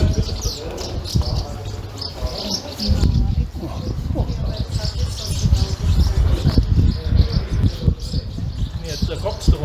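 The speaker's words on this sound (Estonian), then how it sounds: "siin on palju linde, nagu te ise näete, pääsukesed" Swallows calling inside Areni bird cave in Armenia, a dense stream of chirps and twitters echoing throughout, with people talking nearby.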